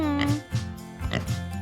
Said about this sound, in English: I hear the pig. Oink, oink, oink.